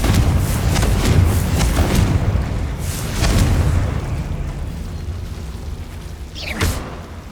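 Confringo spell explosions in Hogwarts Legacy, loud booming bursts with a rumbling low end, several blasts in quick succession and a final sharp pop near the end.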